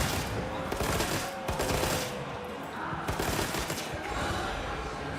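Rapid, dense volleys of gunfire from a bowgun in the video game Monster Hunter Wilds, a loud continuous crackle of shots with brief pauses, under game background noise.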